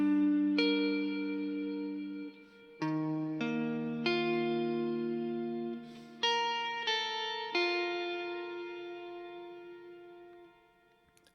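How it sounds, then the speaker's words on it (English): A clean electric guitar drenched in reverb rings out the chords of a song, slow sustained strums with long shimmering decays, each new chord swelling over the fading tail of the last. "that's just an ambient, you know, loaded with reverb sort of guitar tone"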